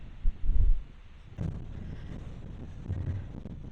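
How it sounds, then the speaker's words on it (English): Wind gusts outdoors at a coastal army fort on Puget Sound, buffeting the microphone with a low, rumbling roar that swells and eases over a few seconds. "get out of this wind"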